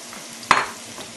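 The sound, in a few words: celery and onion frying in olive oil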